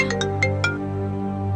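A phone rings for an incoming video call, playing a short bright melodic ringtone of a few chiming notes over a sustained tonal background, close and clear.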